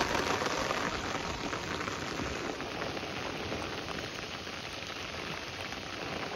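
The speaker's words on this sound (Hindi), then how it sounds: "और मैं ले रही हूँ इंजॉय छत में बारिश का" Steady rain falls on a rooftop in the monsoon season, a dense continuous patter with no breaks, moderately loud and heard alone.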